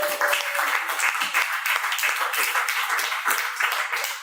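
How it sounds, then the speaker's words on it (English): Steady applause from an audience at a science talk in a bar in Oxford, close and dense clapping that continues evenly for several seconds. "Karen, everyone give her a round of applause."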